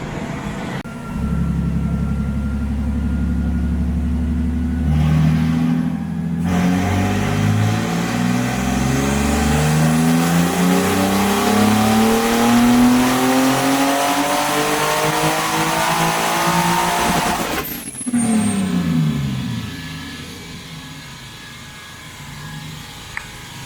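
Turbocharged BMW E36 with a stock M52 engine at 8 psi making a full dyno pull, a loud rising wail climbing steadily for about ten seconds before cutting off sharply, then a brief lower rev and settling.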